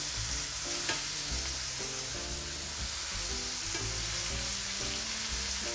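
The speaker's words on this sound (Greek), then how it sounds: "Και περιμένουμε να τηγανιστούν και από την άλλη μεριά" Chicken sizzles and crackles steadily in a hot pan, a continuous frying hiss with occasional pops and stirring sounds.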